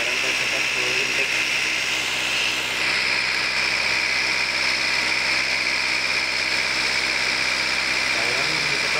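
A 2006 Toyota Avanza engine holds steady at 2000 RPM during an intake cleaning treatment, giving a constant close, loud hum with a high whine above it, while someone talks over it.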